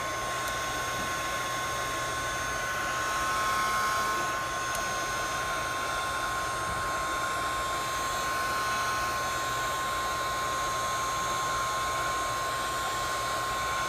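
A heat gun blasting hot air onto a cracked Samsung Galaxy S5 screen to separate it, a loud, constant blowing whoosh with a faint whine that holds steady throughout, with no talking.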